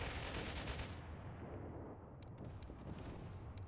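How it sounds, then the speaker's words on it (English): Mortar and artillery fire from the video game Mius Front, a dense rumbling barrage of booms with sharp distant cracks of gunfire layered throughout. "mortars are firing"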